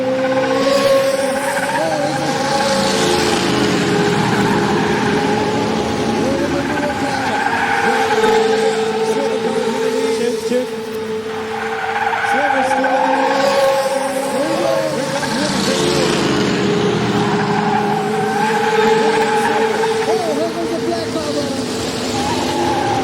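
Race cars skid with squealing tires and revving engines at a football game event, the red car leading, heard loud and continuous under an excited crowd and an announcer's voice.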